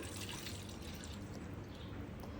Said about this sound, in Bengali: গায়ের দুধটুকু একটু ঢেলে নেব